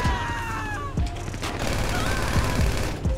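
Repeated gunshot bursts in a GTA 5 roleplay game, several sharp cracks spread across a few seconds over a dense, busy background of game noise.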